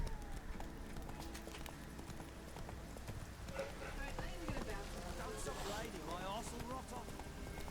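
Hoofbeats of Roach, the horse in The Witcher 3, clopping in a steady galloping rhythm under a talking voice and other game sounds, close and moderately loud throughout.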